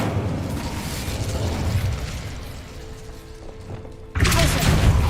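Incendio fire spell cast in Hogwarts Legacy: a steady roaring whoosh of flame with busy game effects, then a loud burst near the end. No clear speech in this stretch.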